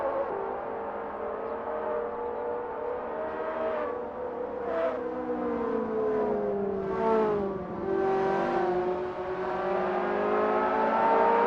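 Ferrari F355 race cars lap Mugello in the Assetto Corsa racing game, engines droning and revving up and down through gear changes at moderate distance, with several overlapping cars and no talk.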